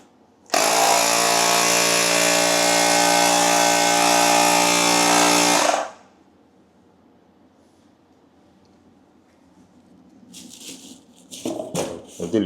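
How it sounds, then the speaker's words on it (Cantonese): A small, light air pump runs loud and steady with a strong motor buzz for about five seconds, then switches off, leaving quiet rustling and handling noises near the end. "小型氣泵。"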